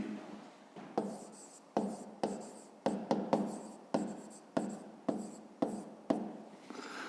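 Pen or pencil writing on paper while working a fifth-grade math subtraction, a steady scratching broken into a series of short strokes that each start sharply and trail off, close and alone with no talk.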